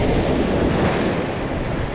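High-tide ocean surf rolls and crashes steadily on Candeias beach in Jaboatão, Pernambuco, a loud continuous wash with wind buffeting the microphone and no voices.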